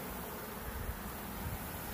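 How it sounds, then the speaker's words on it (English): A dense, steady buzzing hum of many honeybees fanning together at a nuc hive at close range, continuous and even, with no talking. "A lot of bees fanning."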